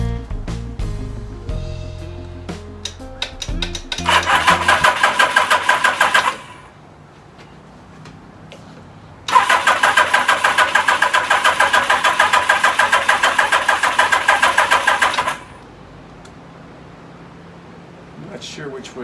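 A 1982 Suzuki GS1100 GK motorcycle engine cranks, catches and revs in two loud sustained bursts separated by a quieter idle, with a few clicks and brief sounds before it starts.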